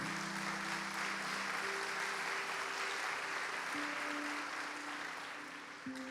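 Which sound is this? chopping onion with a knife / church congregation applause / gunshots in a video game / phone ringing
church congregation applause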